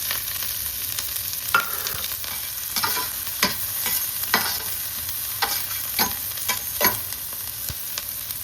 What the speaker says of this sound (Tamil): ஜீரகம் நல்லா பொரிஞ்சு வந்ததும் நம்ம அரிஞ்சு வச்சுருக்கிற வெங்காயத்தை சேர்த்துக்கிறோம்.